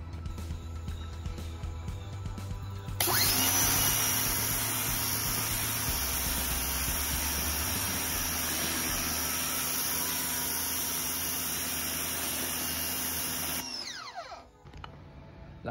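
A Ryobi 2000 PSI pressure washer sprays through its high-pressure nozzle, a loud steady hiss with motor drone starting abruptly after a few seconds, holding constant, then cutting off near the end.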